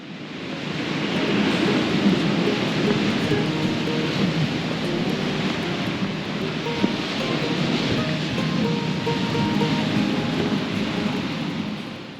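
Heavy surf roars steadily and close by at a seaside outdoor hot-spring bath in South Izu, a continuous broad wash of crashing waves with no voices.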